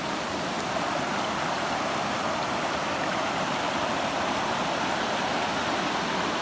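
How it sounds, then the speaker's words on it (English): A waterfall on Nasmith Creek rushes beside a wilderness campsite in the early morning, a steady, dense roar of falling water filling the air without pause and with no voices. "from the waterfall campsite on Nasmith Creek."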